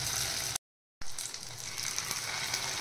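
Veg starter pieces sizzling in hot oil in a pan, a bright steady hiss that cuts out briefly and then resumes, close and continuous.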